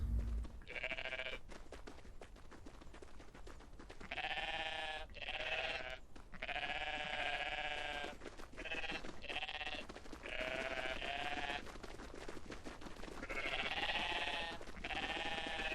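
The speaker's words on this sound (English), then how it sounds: "I will collect all of the sheep. They're goats." Goats in the video game Everything bleat repeatedly in a long, wavering series of calls, loud and close, overlapping one another with brief gaps and no talking.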